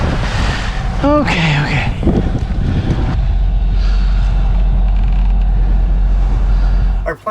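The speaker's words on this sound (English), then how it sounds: "Wind's still all over the place." Wind buffets a sailing boat at sea, a continuous loud rush over a low rumble, with a brief spoken word near the start.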